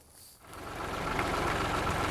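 A tractor engine idles steadily on a homestead, a low, continuous rumble with a rapid regular pulse, rising quickly to a constant level and holding there, with no talk.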